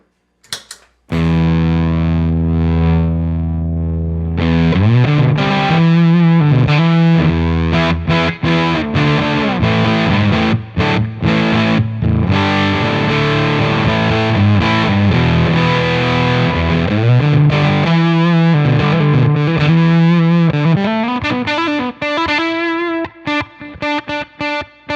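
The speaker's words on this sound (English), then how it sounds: "This is my parts Telecaster running into the fuzz, into the I've got a plexi bassman type clone that I built" Electric guitar, a parts Telecaster, played through an Octavia-clone fuzz pedal into a hand-built plexi Bassman-style amp clone, with thick sustained fuzzy chords and runs that play loudly and continuously, with gated decay between phrases.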